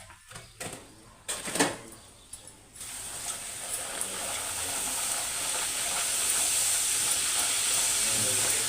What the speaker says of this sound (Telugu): పూరి పర్ఫెక్ట్గా బాగా నూనెలో బాగా పొంగుతుంది అన్నమాట